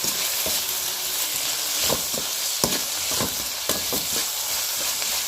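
Onion, tomato and green chilli sauté in a hot pan for poori masala, giving a steady close sizzle and crackle with occasional stirring scrapes, no voices.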